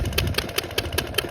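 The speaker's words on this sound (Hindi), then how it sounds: "अभी अपना चल रहा है ये बड़ा इंजन, इसमें पानी चल रहा है नीचे वाले खेत में।" A large diesel engine running an irrigation water pump on a farm chugs loudly and close, its rapid even firing pulses forming a steady rhythmic beat, no talk.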